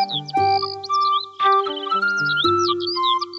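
Birds chirp around a village with a greening pond, giving clear, close, repeated tweets and short trills in quick succession with no talking.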